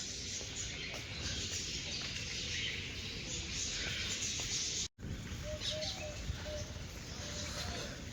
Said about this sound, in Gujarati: અહીં લાઇબ્રેરીમાં છે ને બધું પક્ષીઓનો બહુ જ અવાજ આવે